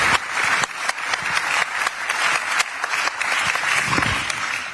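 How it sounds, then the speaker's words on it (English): An audience at an EU economic policy talk claps in sustained, even applause, a dense wash of hands continuing steadily for several seconds. "This is your applause."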